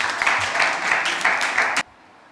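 A burst of audience clapping, dense and steady, then cutting off abruptly into near silence.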